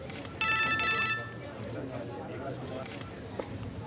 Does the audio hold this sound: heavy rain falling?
no